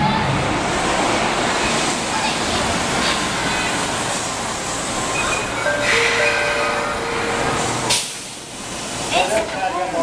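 An Osaka subway train rumbles into a station with loud broadband noise, brief squeals, and a Japanese platform announcement for a train bound for Tennoji, Abiko and Nakanotsu over the din.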